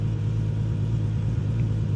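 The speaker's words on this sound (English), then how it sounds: "I'll need to get an exhaust to kind of quiet the car down a little bit, because like, it is really loud" Loud car engine and exhaust idling with a steady, heavy low rumble, continuous and close, with no voices.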